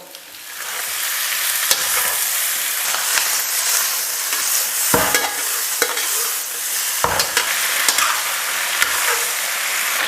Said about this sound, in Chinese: 猪耳朵下锅